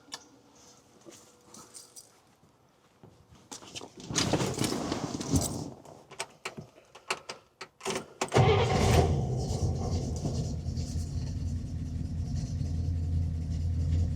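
A 1961 Buick engine cranks with scattered clanks and clicks, then catches and settles into a steady, rumbling idle, recorded close and fairly loud.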